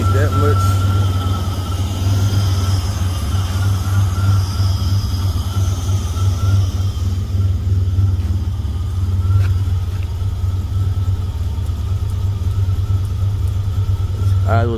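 A Buick Turbo Regal (Grand National) engine idles steadily while being adjusted, a continuous low rumble throughout with a person talking over it.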